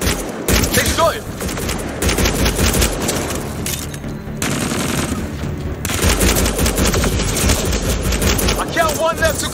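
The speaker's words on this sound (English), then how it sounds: "They shot him!" Sustained gunfire in the video game Mass Effect Andromeda, loud and close, with rapid automatic bursts and overlapping shots running almost continuously, with a brief lull midway and faint mixed-in game voices.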